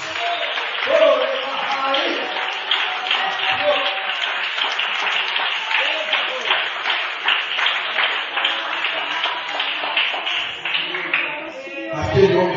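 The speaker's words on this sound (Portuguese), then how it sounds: "Aplaude Jesus." A church congregation claps together in a long, sustained round of rhythmic applause, with a voice speaking over the clapping before it fades out near the end.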